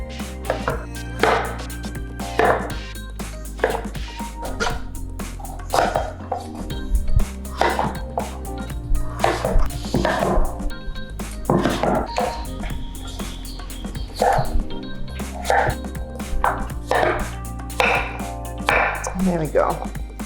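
A knife cuts butternut squash into small cubes on a chopping board, giving a long run of crisp, irregular knocks and taps, close and steady, with no voices.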